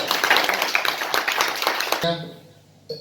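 An audience at a poetry gathering claps as a poet takes the mic, with brisk, dense clapping for about two seconds before it fades and a voice begins speaking.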